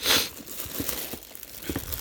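Plastic bags holding Gundam MSIA action figures being handled, giving soft crinkling and rustling with a louder crumple at the start and small scattered crinkles after, close up.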